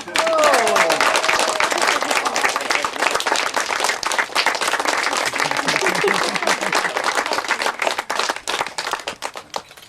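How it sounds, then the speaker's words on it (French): Wedding guests at a medieval-themed wedding applaud the couple with loud, close, dense clapping that holds strong for several seconds and thins slightly toward the end, with some voices mixed in. "On les applaudit tout le monde!"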